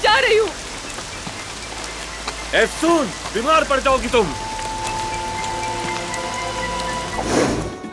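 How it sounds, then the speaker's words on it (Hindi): Heavy rain pours in a steady broadband wash while a person speaks emotionally over it, the downpour continuing alone after the voice stops. "बारिश हो रही है, अंदर आओ तुम।"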